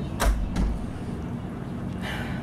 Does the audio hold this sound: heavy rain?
no